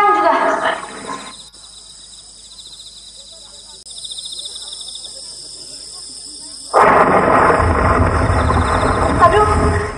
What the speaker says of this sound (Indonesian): sepertinya badai akan datang